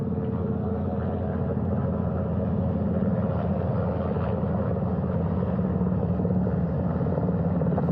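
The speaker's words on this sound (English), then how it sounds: "The first helicopter coming in." A steady, heavy rotor drone and engine roar hold constant throughout as a helicopter approaches and hovers over a ship's flight deck nearby, loud and unbroken.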